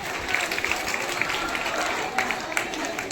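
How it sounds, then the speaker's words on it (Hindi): An audience at a school farewell ceremony claps steadily, a dense wash of applause with a few sharper individual claps standing out, while voices murmur underneath. "ताली बजते रहना चाहिए।"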